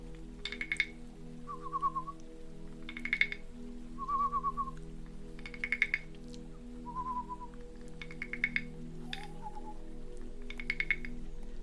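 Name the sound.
voice imitating bird calls, whistling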